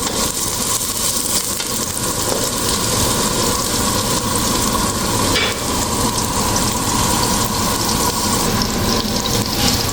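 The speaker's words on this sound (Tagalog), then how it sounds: "Bisahin lang siya hanggang sa medyo maluto yung luya." Ginger sautés in a large frying pan with a loud, dense, continuous hiss and sizzle that stays steady from start to finish, heard up close with no voices.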